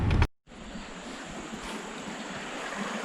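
Small river flowing below an old covered bridge, a steady broadband rush of water that carries on alone and unbroken after a brief louder bump at the very start.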